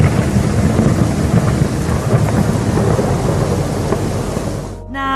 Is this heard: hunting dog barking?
no